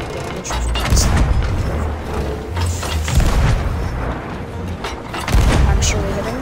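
Cannon fire at ghost ships in a sea battle game, a string of deep booms and bursts at irregular intervals, loud and near, with a voice talking over them.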